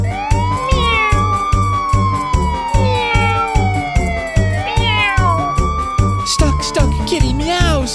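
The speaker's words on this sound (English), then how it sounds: "Stuck, stuck, kitty meows." Sung children's song with a cat's meows woven in, long sliding mew calls over a steady bouncing beat and a siren-like wail, loud and continuous with music throughout.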